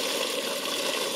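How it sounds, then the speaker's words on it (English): Homemade ginger and turmeric tea streams through a strainer into a container, a steady close splashing pour with no voices over it. "And now you're going to take your tea and pour it"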